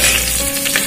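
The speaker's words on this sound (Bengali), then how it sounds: "4টে কাঁচা লঙ্কা ছিঁড়ে দিয়ে দেওয়া হলো ফোড়নের মধ্যে" Torn green chillies drop into hot tempering oil, giving a brief, loud, close burst of sizzling and frying with a little movement in the pan.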